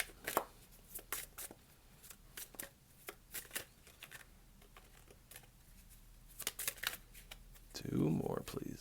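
Tarot cards shuffled by hand at close range, a run of quick crisp riffling bursts separated by short pauses, with a louder rustling handling sound near the end; no speech over the shuffling.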